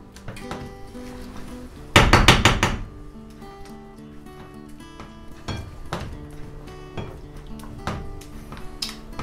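Cooked food gets mashed in a metal pot, with a burst of rapid clanking, then scattered knocks and scrapes of a utensil against the pot.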